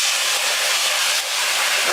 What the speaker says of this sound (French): On va juste en mettre pour déglacer un petit peu de vin blanc.